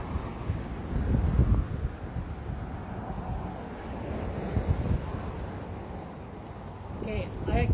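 Gusty wind buffets the microphone in low, rumbling surges that rise and fall, with a brief voice near the end.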